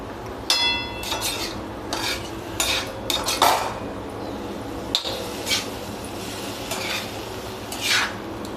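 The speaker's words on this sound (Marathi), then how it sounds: "आता ही भाजी व्यवस्थित आपल्याला हलवून घ्यायची आहे।" Maharashtrian dill greens (shepu bhaji) with chili are stirred in a metal pan, giving repeated scraping and clinking strokes of a spoon against the pan over a faint steady sizzle, close with no talk.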